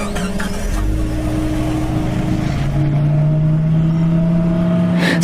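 A car engine runs steadily and loud throughout, its tone rising as it pulls away and drives on with no voices over it.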